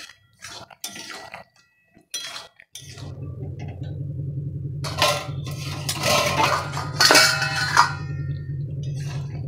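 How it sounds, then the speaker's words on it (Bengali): A spoon stirring mixed vegetable curry in a pan on a gas stove, with scraping clinks and metallic taps over a steady low burner rumble, close and moderately loud, with sporadic louder scrapes. "ভালো করে নেড়ে নিচ্ছি"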